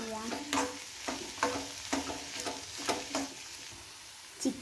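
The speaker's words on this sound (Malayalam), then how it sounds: "ഇനി നന്നായി മിക്സ് ചെയ്യാം." Shredded cooked chicken filling with chopped capsicum and chili being mixed in a pan, producing a series of spaced scraping and clattering strokes over a soft background sizzle, close and moderately loud, with no talking.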